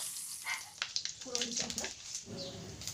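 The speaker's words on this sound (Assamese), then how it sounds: "কেৰাহীত তেল দিছোঁ আৰু ৰাতি ফ্ৰাই কৰা মাছখিনি আকৌ এবাৰ ফ্ৰাই কৰি লৈছোঁ।" Fish being fried a second time in hot oil in a kadai, a steady crackling sizzle with sharper pops scattered through, heard close.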